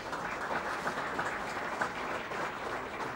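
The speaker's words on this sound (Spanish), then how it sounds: "Realmente hay que darle un aplauso porque la agenda es excelente" An audience applauds the committee at a conference, a steady, even wash of clapping at moderate distance that holds for the whole stretch with no voices over it.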